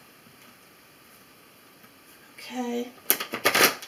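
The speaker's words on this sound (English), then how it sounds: "so gave them two quick shuffles. I'll shuffle them once more real quick here." Oracle cards shuffled by hand: a short riffle near 2.5 seconds, then a louder burst of rapid crisp snaps and flutters, close and clear over faint room quiet, after a brief spoken word.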